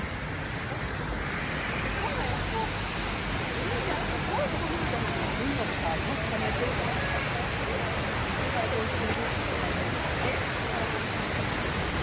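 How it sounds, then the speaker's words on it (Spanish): Steady, dense roar of falling water from the huge indoor waterfall at Jewel Changi Airport in Singapore, a continuous even rush filling the space with no breaks. "La iconiquísima cascada del interior."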